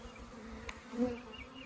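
A swarm of honey bees hums around a hive and tree outdoors, a steady close buzz that swells briefly, with no talk.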